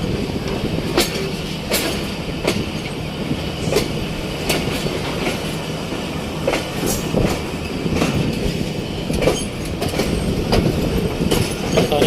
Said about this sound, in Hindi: खानेवाल रेलवे स्टेशन डिपार्ट कर रही है।